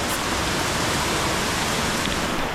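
A large waterfall along a trail near Konkan forts roars as a dense, even, loud rush of falling water, steady throughout with no voices.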